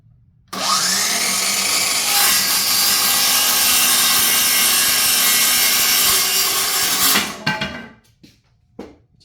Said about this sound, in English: so we're chopping these little board off, and we're going to sand them afterwards.